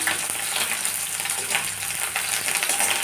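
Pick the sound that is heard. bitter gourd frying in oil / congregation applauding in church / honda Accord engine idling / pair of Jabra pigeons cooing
bitter gourd frying in oil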